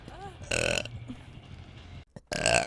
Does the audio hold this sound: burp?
yes